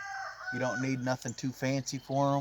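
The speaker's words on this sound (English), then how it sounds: "Now you can hear my rooster in the background." A free-range homestead rooster's crow trails off at the start before a man's speech takes over, with the bird continuing faintly behind his voice.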